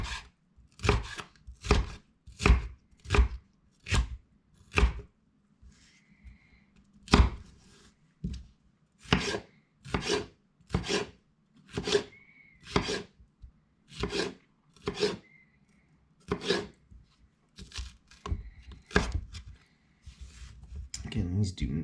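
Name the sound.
knife chopping food for tacos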